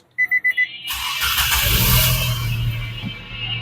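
A 2000 cc Nissan Dualis car gives three quick warning chimes, then its engine cranks and catches, roaring up loudly before settling into a steady, close idle.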